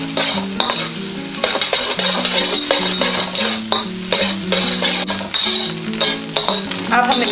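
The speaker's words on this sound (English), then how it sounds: "Now we will stir fry the egg so that we can later add to the fried rice." Egg being stir fried in hot oil in a kadai wok for chicken fried rice, with steady loud sizzling and repeated scraping and clanking of a spatula against the metal pan, no voices.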